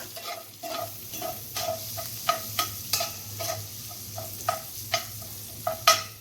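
Spaghetti pie ingredients are stirred as they sauté in a pan, a spoon scraping the bottom in a steady rhythm of repeated scrapes and taps over a low, continuous sizzle.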